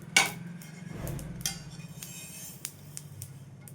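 Roasted sesame seeds are scraped from a pan onto a plate, with a sharp metallic clink followed by light scraping and a few scattered taps, close and fairly quiet.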